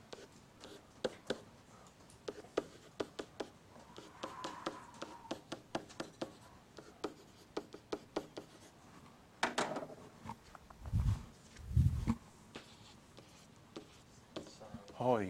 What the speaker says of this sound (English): I'm going to draw a graph.